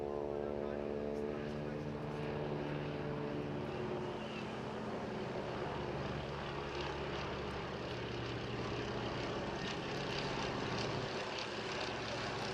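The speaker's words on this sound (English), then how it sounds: "Very lightweight and beautifully set up." A lightweight aircraft flies at the Bournemouth Air Festival, its propeller engine droning steadily at a moderate distance, with the pitch shifting as it passes, while a commentator talks over it.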